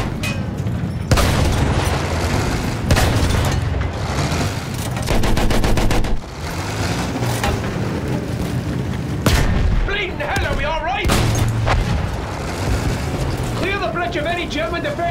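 In a Battlefield 1 cutscene, heavy artillery booms and bursts of machine-gun fire pound repeatedly and loudly, mixed with rumbling explosions while soldiers' voices shout and talk over the chaos.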